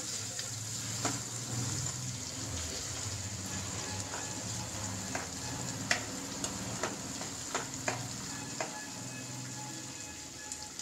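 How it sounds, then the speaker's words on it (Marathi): Onion sautéing in a pan with tomatoes to follow: a steady broadband sizzle runs throughout, punctuated by scattered clicks and scrapes of a stirring utensil, with low background hum underneath. "आता कांदा घालायचा, परतून घ्यायचा"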